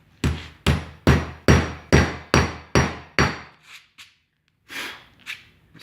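A hammer drives a pin bolt flush through T-bar and membrane: eight sharp, evenly spaced strikes ring out loud and close, followed by a few softer taps and handling noises.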